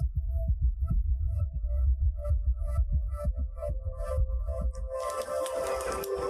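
A rapid heartbeat throbs in low, steady pulses, each beat close and muffled, repeating quickly for several seconds beneath a soft hum, before a brighter whooshing sound swells in toward the end.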